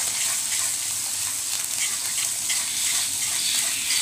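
Prawn and potato curry with tomato paste stirred in a hot pan, a steady close sizzle with repeated soft scraping strokes throughout.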